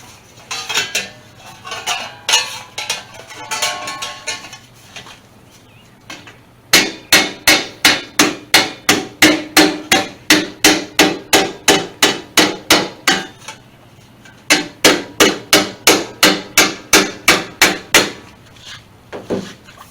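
Rapid, evenly spaced metallic hammer strikes on a 1976 Ford LTD wheel cover ring out in two long runs separated by a brief pause, following scattered lighter taps at the start.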